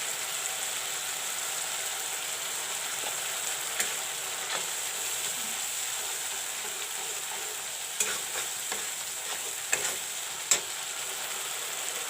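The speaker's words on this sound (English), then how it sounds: "And let the masalas fry properly." Spices and masala sizzle and fry in a pan, a steady close hiss with occasional small pops and stirring clinks, no voices present.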